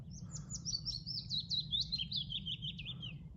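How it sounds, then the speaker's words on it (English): A willow warbler sings a single clear descending phrase of sweet notes from a wetland fen, fairly near, over a low steady background rumble. "And this is a willow warbler."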